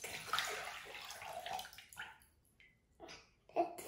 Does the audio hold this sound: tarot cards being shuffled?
no